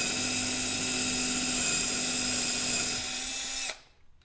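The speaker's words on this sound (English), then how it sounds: "I like to put a little divot in each one of these areas so the drill bit doesn't walk too much" An electric drill bit bores a small divot into the wood of a handmade box, a steady high whine held loud and close for about three and a half seconds before cutting off abruptly.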